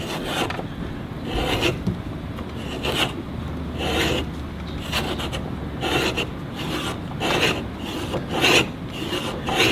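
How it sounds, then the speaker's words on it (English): A scratch stock is drawn back and forth across a wooden desk piece, cutting a decorative profile as a steady rhythmic rasping of repeated strokes, close and continuous with no talking. "The scratch stock works very simple. It's just the way it sounds. You can scratch that decoration right in there."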